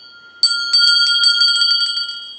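A bright bicycle-style bell rings alone, first a single clear strike and then a quick run of repeated tinkling rings that slowly fade, close and loud with no voices over it.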